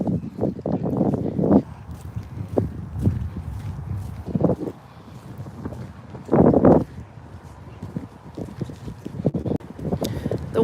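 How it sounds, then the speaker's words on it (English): Gusty wind buffets an outdoor microphone in uneven bursts, with low rumbling surges that rise and fade over the whole stretch while scattered knocking thuds sound underneath. "The wind is really annoying right now because of the noise."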